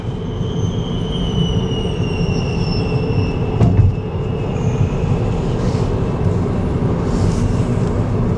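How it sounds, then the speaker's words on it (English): A passenger train from Los Angeles to San Francisco rolls past in Alviso, California, with a steady heavy rumble and high metallic wheel squeal, loud and near, with a brief clank partway through. "train coming from LA to San Francisco."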